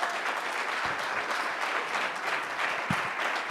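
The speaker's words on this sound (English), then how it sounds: "Give these young men a round of applause." A school audience gives a group of young men steady, dense applause. The clapping is moderately loud and close, holds an even level throughout and has no voices over it.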